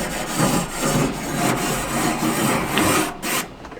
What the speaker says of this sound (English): I'm gonna actually spray my grill brush over here to the side. So not only clean it,